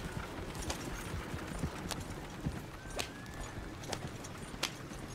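Steady hoof clip-clop from a horse moving along in the video game Red Dead Redemption 2, with a low rumbling background and a short whinny partway through.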